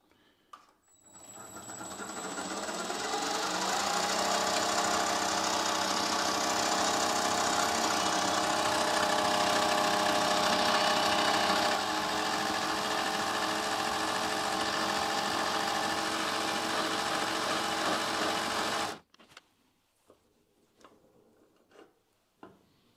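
A tiny CNC lathe chases a thread for about eighteen seconds, giving a steady, loud, whining machine drone with a faint high tone that cuts off sharply and leaves near-silence.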